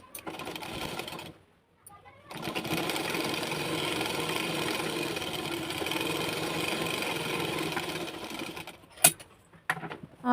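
Sewing machine running steadily while stitching a folded blouse lining, a continuous whirring hum with a brief pause near two seconds and short stops and restarts toward the end.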